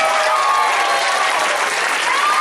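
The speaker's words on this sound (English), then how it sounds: "Let's keep that applause going for the experienced orchestra of Simonds." A concert audience keeps up loud, dense applause for a school orchestra, a continuous wash of clapping from a large crowd with no pause.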